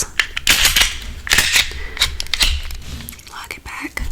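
A handgun slide is racked and locked back after cleaning, giving several sharp metallic clicks and scrapes at close range amid soft whispering.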